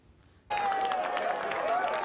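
Applause erupts suddenly in a hall at the close of climate change negotiations, a dense, sustained burst of clapping from a large crowd after a brief quiet moment, with a faint voice audible within it.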